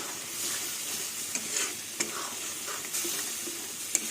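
Dal posto, lentils with poppy seed paste, stirred in a hot pan, a steady soft sizzle with occasional scrapes and taps of the spoon, fairly quiet and without voices.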